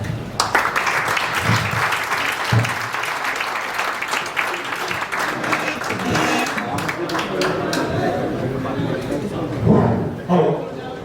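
Audience applause at an insurance awareness seminar in Lucknow, a long stretch of clapping from a hall of people with voices talking over and around it, rising briefly near the end.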